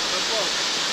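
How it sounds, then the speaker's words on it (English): The second waterfall at Ricketts Glen in July gives a steady, loud broadband rush of falling water that fills the whole moment, with a faint voice underneath. "This is waterfall number 2."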